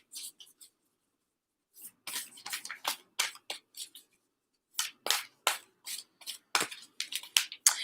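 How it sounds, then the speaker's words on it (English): A deck of tarot-style cards being shuffled by hand in bursts of quick papery riffles and slides, near and fairly quiet, with a silent pause in the middle. "As I'm shuffling the deck"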